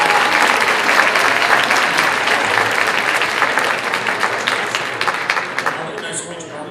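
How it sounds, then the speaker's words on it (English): A live magic show audience gives the illusionist's volunteer assistant a round of applause, a loud, dense wash of clapping that gradually thins and fades, with a few scattered claps and crowd murmur at the end. "Would you please give her a round of applause for the assistant?"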